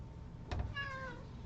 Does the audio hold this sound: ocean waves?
no